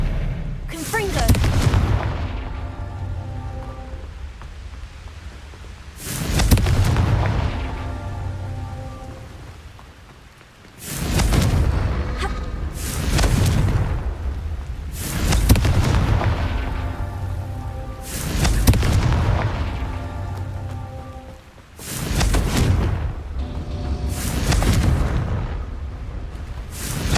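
Fiery Confringo spell blasts from Hogwarts Legacy erupt one after another, about six loud booming explosions spaced a few seconds apart, each fading into a rumbling, crackling tail.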